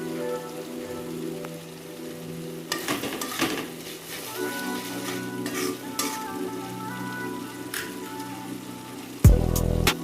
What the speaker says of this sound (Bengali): মশলাটাকে ভালো করে কষাবেন, মশলা যত কষবে তত তরকারির টেস্ট বাড়বে।